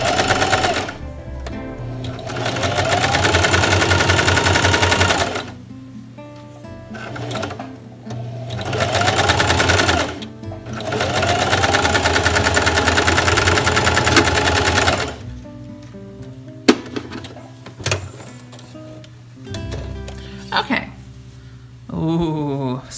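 A domestic sewing machine stitches a newborn baby sleeper in loud, steady whirring bursts of several seconds each, separated by short pauses, with quieter clicks and handling noises toward the end.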